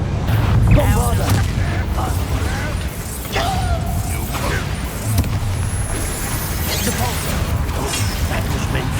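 Bombarda spell explosions and clashing effects from a Hogwarts Legacy duel, loud booms and mechanical crashes layered over dense battle noise, with voices talking throughout.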